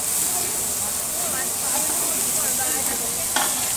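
Garlic and ginger paste fries in a pan while a large spatula stirs it, making a steady hiss and sizzle with soft scraping close by. Voices are present.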